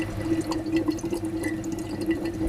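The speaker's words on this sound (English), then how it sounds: "So Hilary, we have a bottle here with some liquid and there's a pipe inside the bottle and everything's bubbling away" Liquid bubbles through a pipe inside an anaerobic digestion lab bottle, giving a soft, continuous burble of small pops and gurgles at close range, with no talk.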